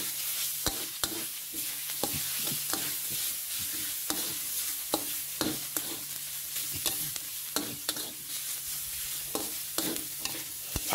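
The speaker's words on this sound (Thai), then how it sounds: "ผัดหมูสับต่อให้สุกเลยครับ" Minced pork stir-fried with curry paste in a wok, with a steady sizzle cut by sharp, regular scrapes and clacks of the spatula against the pan, close and continuous with no voices.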